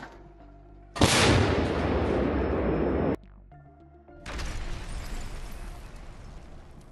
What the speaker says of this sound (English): The control point was destroyed by an accurate strike from Russian artillery.